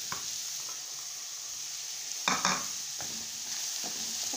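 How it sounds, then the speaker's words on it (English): Carrots are tossed into a frying pan of mixed vegetables, giving a steady close sizzle with a few scraping stirs and clatters of a utensil against the pan. "This time I add my carrots."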